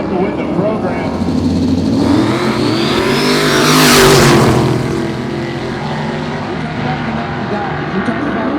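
Nissan GT-R at the Roadkill Nights drag event, a loud continuous engine roar that swells toward the middle and eases off, heard amid crowd noise and voices.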